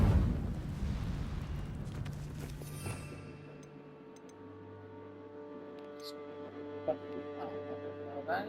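Incendio fire spell cast in Hogwarts Legacy: a loud fiery burst that rolls into a roaring rumble, fading over a few seconds into a low sustained hum with small bright crackles.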